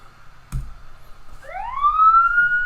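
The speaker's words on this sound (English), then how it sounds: "Can you hear a police car?" After a sharp knock, a police siren starts winding up, its tone sweeping upward and holding loud and clear near the end.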